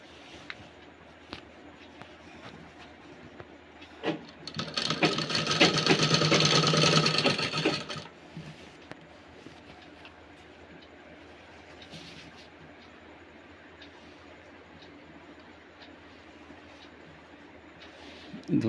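A sewing machine runs in one steady burst of about four seconds partway through, stitching a Patiala salwar, with quiet room noise before and after.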